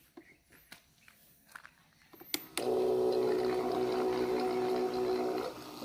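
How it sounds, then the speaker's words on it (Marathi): A portable battery-powered sprayer pump switches on partway through and runs with a loud, steady motor whine and hum, close by, after a few light knocks and handling sounds. "आता बघा आपण चालू करतोय मशीन"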